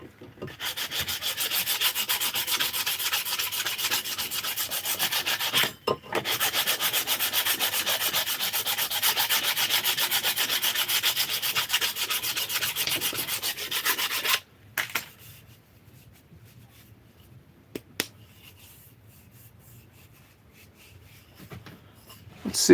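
A strip cut from an old worn metal sanding belt rubs back and forth while a cobbler's hammer is built at the workbench, making a steady, loud, close scraping that runs for many seconds, pauses briefly, then stops into near-silence with a few faint knocks.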